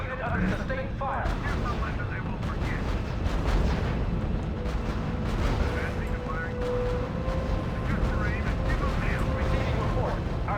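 Dense battlefield gunfire and artillery from the video game R.U.S.E., a constant loud barrage of shots and booming blasts with no pauses, layered with game effects.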